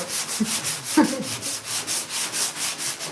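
Steady rhythmic sanding strokes rasp back and forth against an old aluminum canoe in a workshop, a regular abrasive swish repeating roughly every quarter second, close and continuous, with no voices.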